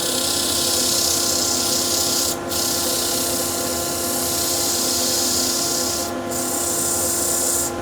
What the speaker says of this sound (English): And then we'll start sanding.